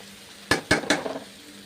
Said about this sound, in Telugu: బాగా ఆయిల్ పైకి తేలుతుంది, మెల్లగా కలుపుకోండి.